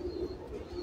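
A pigeon coos softly in a brief, low, close call, with two gentle rolling notes.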